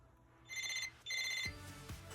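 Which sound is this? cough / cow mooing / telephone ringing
telephone ringing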